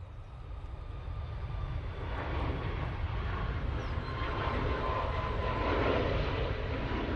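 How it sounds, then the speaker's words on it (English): TUI airliner on its takeoff roll at Manchester Airport, a broad distant jet roar that swells gradually and grows louder over several seconds with no talking. "TUI on the roll now."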